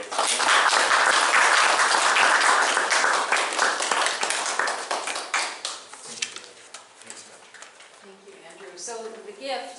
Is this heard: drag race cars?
no